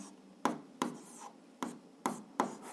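Chalk or pen strokes writing a physics formula by hand on a board, six short sharp scratching taps in an uneven rhythm, close and clear with no talking.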